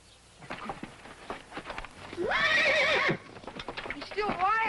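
A horse lets out a loud, shaky whinny, close by, with hooves clip-clopping before and after it.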